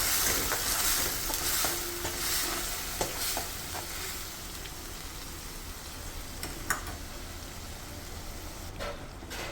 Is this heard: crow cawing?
no